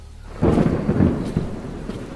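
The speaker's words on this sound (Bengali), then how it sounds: "দূরে কোথাও ভীষণ জোরে বাজ পড়ে।" A loud, close thunder clap with rain, a sudden rumbling burst that rolls and crackles for a couple of seconds over steady rainfall, used as a dramatic effect in a thriller story.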